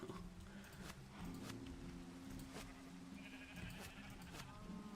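Sheep in Minecraft bleat several times over a few seconds, faint and low in level, with no talk.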